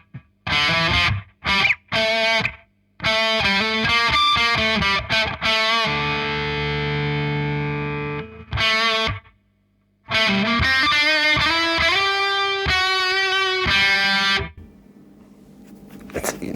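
Electric guitar played through the crunch channel of an ENGL E860 rackhead, loud distorted chords and riffs in bursts with short gaps, a sustained ringing chord in the middle, then a faint tail at the end.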